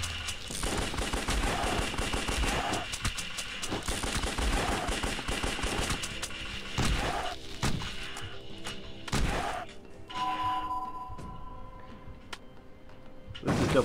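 Rapid gunfire from the top-down shooter Larva Mortus, sharp shots cracking in dense bursts almost throughout, with a few heavier isolated blasts near the end and no talking.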